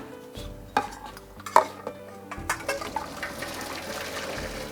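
Boiled water poured off cooked beans in a home kitchen, splashing and running with clinks of a pot and utensils, steady and close, with no talk.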